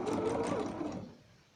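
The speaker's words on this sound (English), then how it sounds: "just sewing back and forth so we don't lose anything as we go around" A sewing machine stitches a seam on a round cushion form made from a square one, running steadily back and forth in a close, quiet whir that fades out toward the end.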